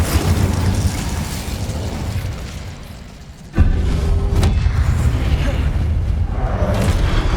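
The Incendio fire spell in Hogwarts Legacy on PS5 erupts in heavy booming bursts: a loud rumbling blast, a brief dip, then a sharp new explosive onset that keeps roaring.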